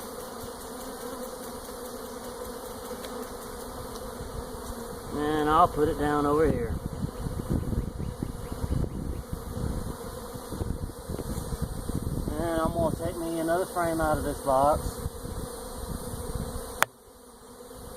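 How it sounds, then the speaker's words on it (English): Honey bees swarm around an opened hive box while a nuc is moved into it, a steady close buzzing that runs throughout as someone talks over it. "There's a lot of bees in this nook. You see all the bees? A lot of bees waiting to get in."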